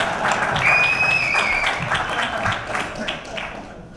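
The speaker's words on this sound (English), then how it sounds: "give Brian a round of applause" A room applauds a panelist named Brian at a sports business panel, with moderate clapping that fades gradually while a brief electronic tone and some voices sound over it.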